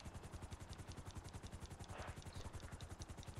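A helicopter in GTA 5 Online gives off a steady, rapid rotor thump that fills the whole stretch, quiet and continuous, with no talking.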